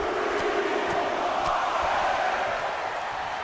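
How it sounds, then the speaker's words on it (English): Crowd noise from a WWE 2K25 wrestling match, a steady loud roar of cheering throughout, with a few faint sharp accents. "The crowd are really into it."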